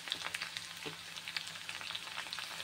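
Tamarind, urad dal and a pinch of turmeric fry in a pan, giving a faint, steady sizzle with light crackles and occasional stirring sounds.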